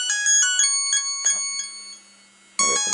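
A melodic electronic ringtone plays for an incoming call on a phone placed nearby, with bright chiming notes that pause briefly and then start again, loud and close.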